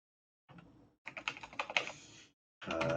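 Bursts of rapid keystrokes on a computer keyboard while working in Windows, close and fairly quiet, with a short gap and then a final dense flurry of typing.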